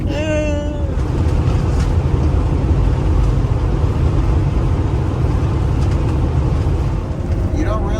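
A Winnebago Rev motorhome's engine strains at full throttle up a steep grade on the Alaska Highway: a loud, unbroken drone of engine and road noise, with voices heard over it.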